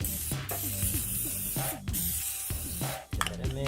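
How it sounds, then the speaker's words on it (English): Cooking spray is hissed into a small Pyrex pan in short repeated bursts, close and loud, over background music. "A little bit of cooking spray,"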